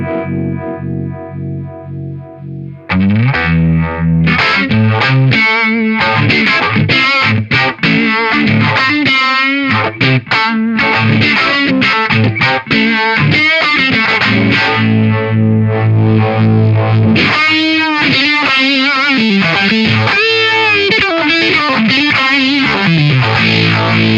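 An electric guitar played through an Eastwood Black Box Univibe pedal at low speed, giving loud, continuous riffs and chords with a slow swirling, throbbing modulation after a quieter opening bar.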